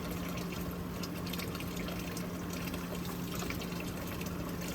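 Water poured steadily into a small portable laundry washer inside a van, a continuous close rushing fill with a faint hum underneath and no pauses.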